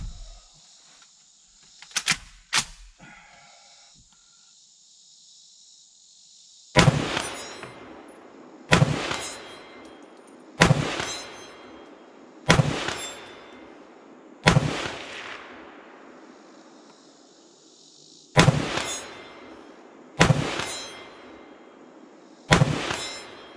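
A DSA SA58 FN FAL clone rifle fires 7.62 NATO rounds at steel targets 100 yards out: about eight loud, sharp outdoor shots spaced a couple of seconds apart, each trailing off in echo, after a few faint metallic clicks.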